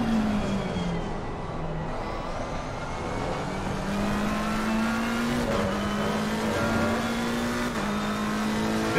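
A BMW race car engine in a sim racing game at the Nurburgring drones steadily at high revs, its tone rising and dropping through gear changes, continuous and fairly loud with no talking.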